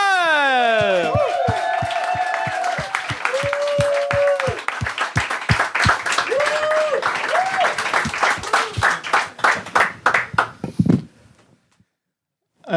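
A comedy club audience applauds a comedian with steady, close clapping and some cheering and whoops, the claps thinning into scattered individual hits before fading out; a voice shouts over the opening seconds.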